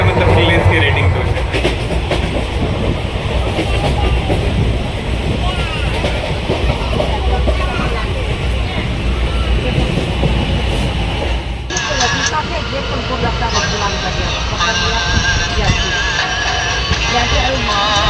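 Howrah-Jamalpur Super Express running on rails along the Khana-Kiul-Sahibgunj loop, heard from inside as a steady, loud low rumble with rhythmic clatter throughout, changing in tone partway through, with talk faintly mixed in.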